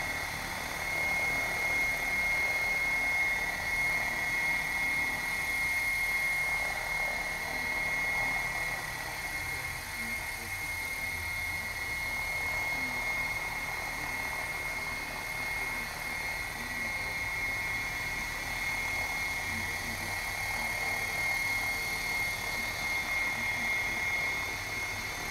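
An Assault 700 RC helicopter hovers in a backyard, giving a steady, continuous high motor-and-rotor whine that holds level throughout with no talking.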